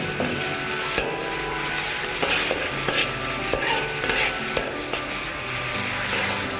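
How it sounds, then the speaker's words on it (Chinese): Pieces of pork tenderloin sizzle and are tossed in a hot wok, with a steady frying hiss broken by regular scraping and clanking strokes of the spatula against the metal, close up and without talk. "把里脊肉放进去爆香"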